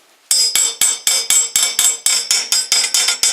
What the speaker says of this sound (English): if the carburetor's stuck on, you can tap it.